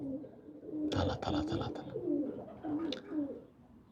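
A flock of pigeons coos on a rooftop in soft, overlapping low calls, with a brief flutter of wings. A voice speaks over the birds.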